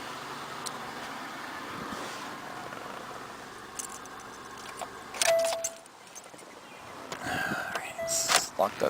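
Car keys jangling close by as a car is locked, a few brief metallic rattles and clinks over quiet outdoor background, with someone speaking briefly.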